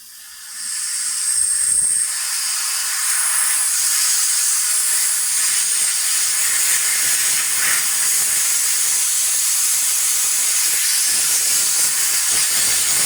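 Compressed air hisses steadily out of a leak in a homemade spare air tank built from an old Pro Tank. The sharp, loud hiss starts within the first second and runs on without a break, with no voices over it.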